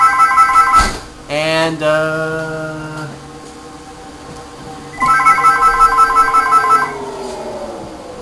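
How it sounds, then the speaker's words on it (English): An electronic telephone ringtone sounds loud and close in two separate bursts of rapid trilling rings with a quiet stretch between them; a voice briefly speaks as the second ring ends. "yeah, sorry about the phone."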